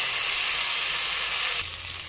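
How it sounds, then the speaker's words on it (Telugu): Onions and cashews deep frying in oil in a pan for dhaba-style chicken curry, a loud, close, continuous sizzle that shifts slightly near the end, with no voices. "ఇలా ఆనియన్స్, కాజు అనేవి కొంచెం బాగా డీప్ ఫ్రై అయిన తర్వాత మనం కొంచెం టమాటో కూడా"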